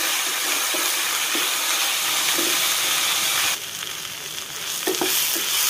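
Sliced onions sauté in a pan for a Malabar chicken banki snack, giving a steady, close sizzle with a few soft clicks of stirring. The sound dips quieter partway through and then carries on. No one speaks.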